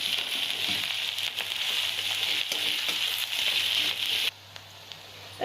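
Onion sizzling steadily as it sautés in hot tempering oil while a wild bharanga vegetable dish is cooked, a dense continuous frying hiss that drops to a faint low simmer near the end.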